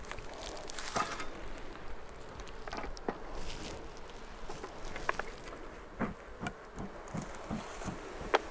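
Swarm of honeybees buzzing around an open hive with a bee-covered cover, a close, continuous hum punctuated by soft thumps and taps, no voices.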